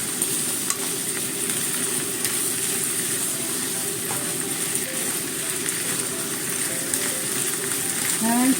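Green peppers stir-fry in a pan with a steady, bright sizzle and occasional scraping and stirring, close and continuous with no talking.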